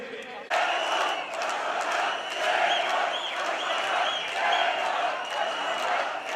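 A large crowd at a political rally in Manisa, Turkey cheers and applauds loudly and continuously, with shouts rising out of the roar after a sudden start.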